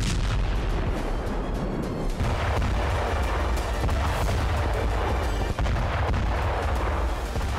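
Bombing and artillery fire in Gaza, during a military operation in Khan Younis: a continuous loud roar of dense booms and blasts with sharp cracks throughout.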